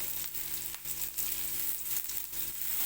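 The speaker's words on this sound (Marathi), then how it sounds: "कांदा चांगला लाल बडद होईपर्यंत भाजून घेतला" Chopped onions sizzle steadily in a pan on low heat while being browned for a dry soybean curry, a close, even crackle with no talking.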